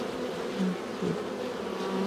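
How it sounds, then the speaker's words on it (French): Dense swarm of honeybees buzzing around an open, highly populous beehive during a strong nectar flow, a close, continuous droning hum with no pauses. "Voilà, hop, côté, beaucoup d'abeilles aussi."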